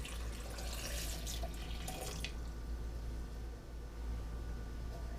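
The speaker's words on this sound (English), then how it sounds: "1 cup of filtered water" One cup of filtered water is poured into a Ninja blender cup, a close, bright splashing stream for about two seconds, then stopping and leaving a low background hum.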